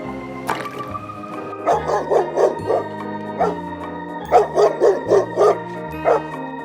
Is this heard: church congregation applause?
no